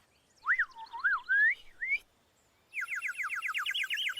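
Melodic whistling, rising and falling swoops, then a quick run of rapid repeated trills; clear and close, with no talk.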